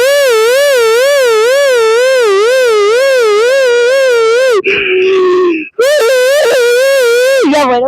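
A human voice imitates an ambulance siren with a loud, steady rising-and-falling wail. The wail is broken by a short squeal and a brief gap, then resumes.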